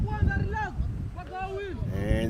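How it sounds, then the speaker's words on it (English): Giant fans blow steady, rumbling wind noise behind commentators at an outdoor U20 men's lacrosse championship game, a constant low roar running under voices throughout. "the wind you are hearing is the giant fans that we have behind us"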